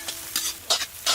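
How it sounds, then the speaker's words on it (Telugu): Onions frying in oil, heard as four short bursts of sizzling and stirring scrapes in quick succession, close and clear with no speech. "ఉల్లిగడ్డలు నూనెలో వేయించి బాగా వేసుకుందామండి"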